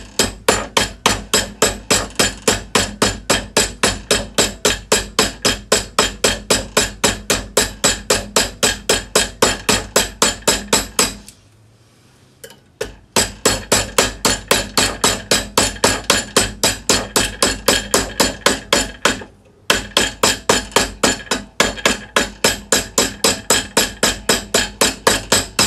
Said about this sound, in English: what you do is you move your hammer slightly to the side and it'll form it into a curl